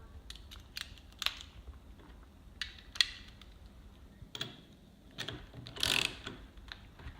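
An open-ended ratcheting wrench with a socket adapter being tightened, quiet irregular ratchet clicks and short metallic ticks in clusters, close and faint.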